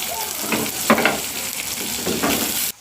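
Onions sauté in hot oil for a fish curry, a close, steady sizzle broken by a few louder stirring scrapes, then cut off abruptly.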